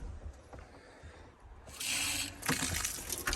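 A hose is tested for water pressure after frozen waterlines, producing bursts of hissing spray that start abruptly, pause briefly, then resume loudly up close.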